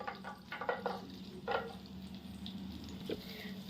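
Peeled garlic cloves frying in hot oil for a tempering, a steady soft sizzle with a few sharper crackles and pops, close and fairly quiet, no talking.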